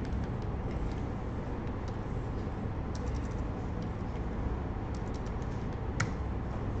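Fingers tapping a computer keyboard at a quiet desk, scattered light clicks in short bursts over a low background hum, faint and close.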